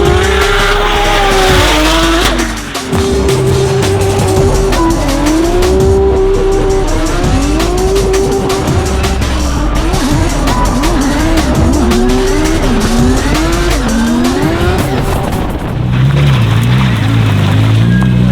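A race car lapping a track, its engine loud and close, revving up and down continuously with repeated tire squeal through the corners, with no voices.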